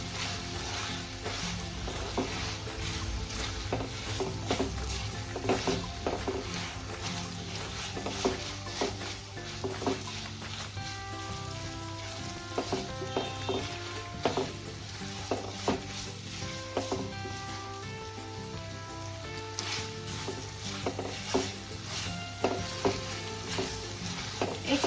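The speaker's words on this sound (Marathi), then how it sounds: "आता ह्यामध्ये जे बॉईल करून घेतलं होतं ते मॅगी आणि मायक्रोनी ह्यामध्ये टाकायचं आणि याला एकजीव करायचं" Boiled Maggi noodles and macaroni are stirred in a sizzling pan. A spoon scrapes and taps against the metal in an uneven rhythm over steady frying hiss, close and clear, and no one talks.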